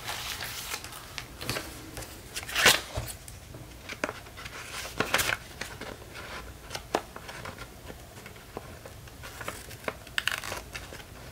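Scissors snip along the edges of a sewn vintage-style Christmas postcard, with scattered sharp cuts and light paper crinkling at close range, no talking.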